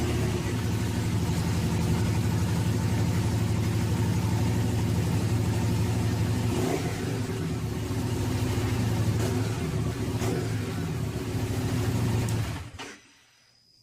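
A Harley-Davidson XG750 Street motorcycle engine runs with a steady, loud low rumble, rising briefly in a few revs before cutting off abruptly near the end, leaving near silence.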